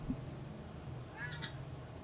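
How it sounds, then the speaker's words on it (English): A house cat meows close to a microphone, with one short, clear meow partway through over a low background hum. "Goddamn cat."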